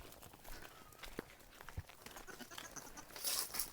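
A goat bleats faintly amid light rustling and a few footsteps outdoors in a forest where it is taken to graze, with brief sharp knocks and a hiss of higher noise near the end.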